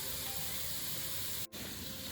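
Mushrooms go from a pot into a hot frying pan, giving a steady close sizzle and hiss that breaks off for a split second partway through.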